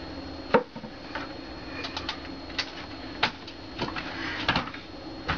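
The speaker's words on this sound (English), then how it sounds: "I'm going to clear some of this area out because I got quite a mess going. I'm going to go ahead and put the salt shaker away." A cluttered workbench is cleared and a salt shaker is set away, producing scattered soft knocks, taps and light clatter of objects being moved and put down at close range.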